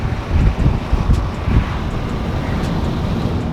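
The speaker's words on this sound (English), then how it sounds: "And no wind noise, just normal wind noise." Steady low rumble of wind and road noise inside a Toyota Supra as it accelerates, a continuous broadband wash with slight swells in the first seconds, no voices.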